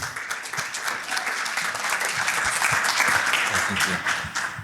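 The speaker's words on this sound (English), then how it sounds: "Let's give them a big round of applause." Workshop attendees give a round of applause for presenters from a marketing firm, dense clapping holding steady and fairly close for several seconds.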